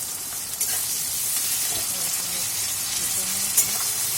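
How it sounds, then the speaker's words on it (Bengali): Chopped onions fry in hot oil in a pan for a spicy mutton kosha, a steady close crackling sizzle with light stirring scrapes and a few faint clicks. "পেঁয়াজগুলো একটু ভাজা ভাজা হোক"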